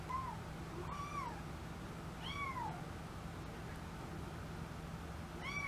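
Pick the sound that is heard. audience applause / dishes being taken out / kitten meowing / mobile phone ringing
kitten meowing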